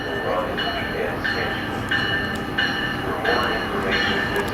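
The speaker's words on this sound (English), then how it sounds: "Metrolink Arrives" A Metrolink commuter train rolls into a depot, a steady rumble of cars with repeated rhythmic clacks and metallic ringing tones, heard from nearby at a fairly even level.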